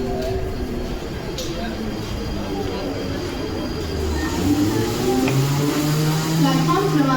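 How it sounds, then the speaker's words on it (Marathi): A 12-car Harbour Line slow local rumbles into a platform at Panvel station, its steady rolling noise swelling slightly toward the end, with faint station background sounds mixed in. "local arrived on platform number 1 is 9 hours 43 minutes 12 car slow local for Panvel via Harbour Line"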